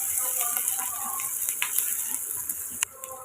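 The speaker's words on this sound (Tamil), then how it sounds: "மிளகாய், கருவேப்பிலை, வெங்காயம் சேர்த்துட்டு ஒரு 2 நிமிஷம் நல்லா கலந்து விட்டு வதக்கி விட்டு எடுத்துக்கோங்க" Chillies, curry leaves and onion sizzle in a hot pan, a steady close frying hiss with occasional scrapes and rattles of stirring and no voices.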